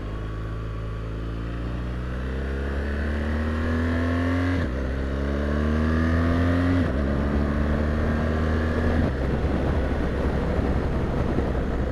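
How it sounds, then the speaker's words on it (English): A 2016 BMW R1200GS motorcycle engine revs hard and climbs in pitch, with three quick gear shifts using Gear Shift Assist Pro, each dropping the tone briefly before the steady, loud roar climbs again. "that was 3 shifts with the Gear Shift Assist Pro"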